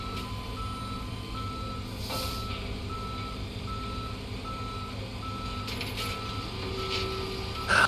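A tow truck in a police patrol simulator video game backs up, its reversing alarm beeping in a steady repeated pattern over a low engine rumble at moderate distance.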